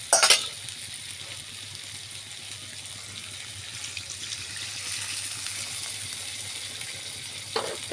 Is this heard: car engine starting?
no